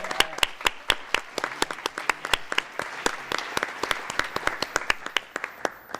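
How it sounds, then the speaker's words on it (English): Audience at a startup pitch competition gives the judges a round of applause: a quieter room of individual claps, crisp and distinct, with a few sharp nearby hand slaps standing out in an irregular, sustained patter. "I wanted to give another huge round of applause for our judges"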